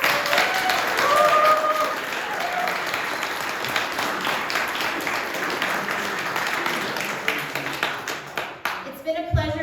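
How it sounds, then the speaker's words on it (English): Audience at a candidates night in Elliot Lake giving a warm round of applause, steady clapping from a mid-sized crowd that thins toward the end as a voice briefly speaks. "If we could give one more round of applause for tonight's candidates."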